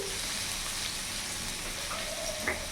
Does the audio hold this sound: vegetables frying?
yes